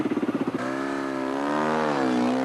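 A Honda 600 XR rally motorcycle engine on the Dakar Rally, first chugging in rapid uneven pulses, then catching and settling into a steady, rising drone close by, without talk.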